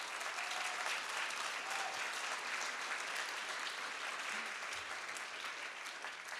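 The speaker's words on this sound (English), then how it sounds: "a big round of applause for Stephen" Steady applause from a conference audience in Vienna welcoming a guest speaker, dense and even throughout, filling the whole stretch without talk.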